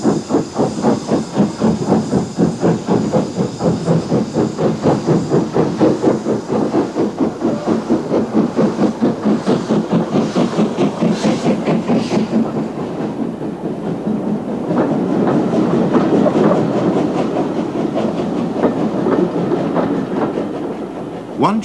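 Preserved LMS steam locomotive, normally based on the Severn Valley Railway, working a train on the Swanage line, loud rhythmic chuffing exhaust beats close by, later merging into a broader hiss and rolling rumble as it passes.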